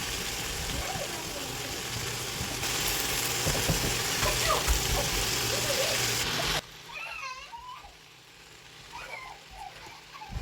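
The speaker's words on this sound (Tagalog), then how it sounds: "isunod naman natin igisa yung ating repolyo. Hanggang sa lumambot." Cabbage sautéing in a pan, a dense crackling sizzle with stirring scrapes for several seconds before the sound drops away to quieter kitchen noise and faint voices.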